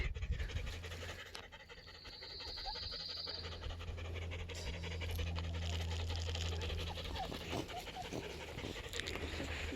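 Puppies pant rapidly and steadily up close, a soft rhythmic huffing that continues for about ten seconds with faint scratching mixed in.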